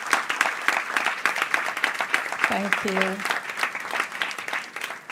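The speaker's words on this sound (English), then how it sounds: "Let's give them another round of applause." Applause from an audience fills the hall after a children's play at a birthday celebration, steady dense clapping throughout while a voice briefly speaks over it.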